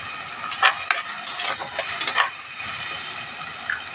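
Garlic paste fries in hot oil for a chicken thoran, giving a quiet, steady sizzle broken by a few short scraping stirs.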